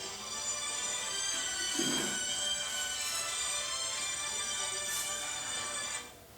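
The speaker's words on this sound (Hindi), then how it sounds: "कौन है? किनका फोन है?" A mobile phone rings indoors in a steady electronic tone that repeats for about six seconds, then stops. No one speaks over it.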